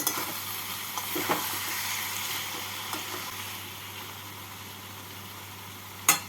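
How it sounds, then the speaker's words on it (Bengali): Chilies and fried prawns sizzle steadily in a hot pan as they are stirred for a chal kumro chingri dish, with a few soft scrapes and a louder clink near the end, no talking. "ভেজে রাখা চিংড়ি মাছ মাছটা দিয়ে নাড়াচাড়া করে নেব"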